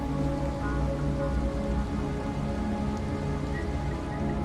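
Steady rain in the video game Wuthering Waves, a dense even wash of falling drops heard alone, with a low droning bed beneath it.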